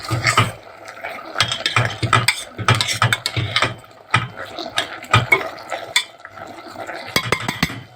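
A spoon stirs colored bell peppers and a bay leaf in a metal pot, scraping and clinking in irregular bursts close by, with sizzling underneath.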